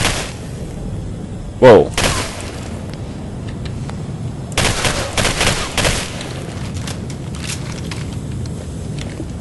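Gunfire from shooting creatures in the video game Singularity: a loud burst of shots and booms, then a cluster of rapid shots a few seconds later, with a voice talking over the game sounds.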